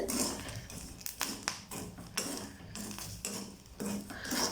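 Chickpeas roasting in a hot pan are stirred steadily, a continuous dry rattle and scrape of metal on pan with a few sharper clinks throughout.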